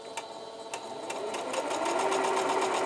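Quilt pieces run through a sewing machine, a close steady mechanical whirr that builds to a continuous hum of stitching, with a few sharp ticks at the start.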